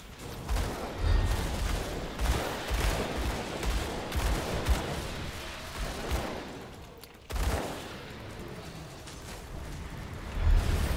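Dual pistols firing in the Grim Dawn action RPG, dense rapid bursts of gunfire mixed with impact and explosion effects, loud and continuous with a brief gap before the shooting resumes.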